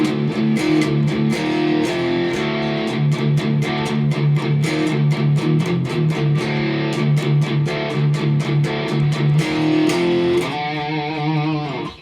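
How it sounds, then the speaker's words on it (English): An ENYA Nova Go Sonic electric guitar with a built-in speaker, on its distortion channel, chugs through a steady riff of heavily distorted palm-muted chords, loud and continuous, ending on a ringing sustained chord. "Here's your straight distortion channel."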